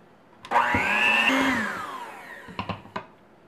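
An electric mixer whirs up and runs steadily for about a second, then winds down while mixing coffee crumb cake batter with sour cream and flour, followed by a few knocks on the bowl.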